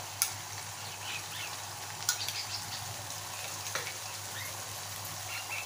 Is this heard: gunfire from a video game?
no